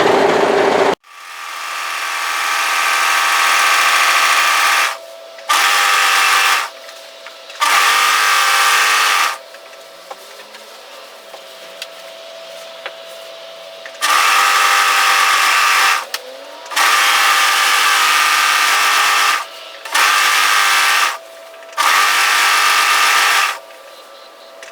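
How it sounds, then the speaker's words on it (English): An overlocker serges the raw edge of a slip nightgown's fabric in loud, close bursts of fast mechanical whirring, several runs of a few seconds each broken by short pauses and a longer quiet gap. "So what I'm going to do is just overlock tidy the raw edge"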